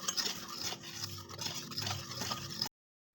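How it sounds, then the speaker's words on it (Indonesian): Flour, baking powder and instant yeast being stirred together in a bowl for a traditional market cake batter, a continuous soft scraping and swishing at close range with no voices, ending abruptly. "Kita aduk sampai tercampur rata."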